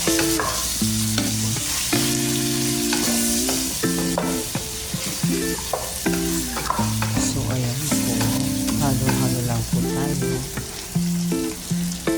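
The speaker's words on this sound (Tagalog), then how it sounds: "maglagay na po tayo ng curry powder turmeric powder chili powder ayan po and then halo lang po natin" Chicken cooking with curry, turmeric and chili powder being stirred in, a busy loud sizzle with frequent spatula scrapes and clanks against the pan, while music plays underneath throughout.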